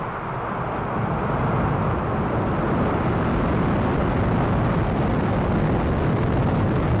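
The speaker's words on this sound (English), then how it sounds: "Ignition, liftoff." A SpaceX rocket ignites and lifts off on a NASA launch, producing a loud, unbroken deep rumbling roar that builds slightly and holds for several seconds.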